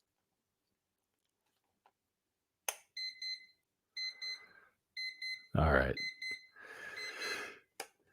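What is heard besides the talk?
Peakeep quartz alarm clock alarm going off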